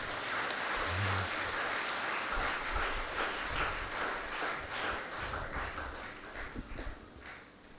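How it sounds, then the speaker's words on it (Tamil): Applause from a church congregation during a Tamil sermon. A dense wash of clapping runs throughout and thins out toward the end. "கைத்தட்டலாம்."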